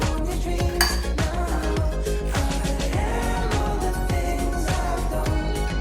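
Guava and pomegranate salad stirred in a bowl with sugar and salt, a steady run of spoon scrapes and clinks against the bowl up close, repeating in a quick rhythm over soft background music.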